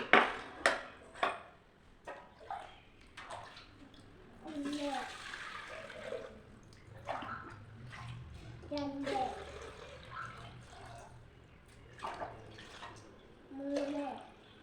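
Cups of water are poured one after another into a small 3-litre pressure cooker, three splashing pours spread out over quiet stretches, with voices talking softly in between.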